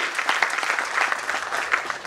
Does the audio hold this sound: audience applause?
yes